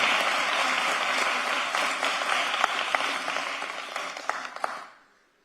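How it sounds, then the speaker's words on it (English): An audience at a government commission meeting claps steadily for several seconds, a few sharper individual claps standing out, before the applause stops abruptly into silence. "You can clap for that if you want."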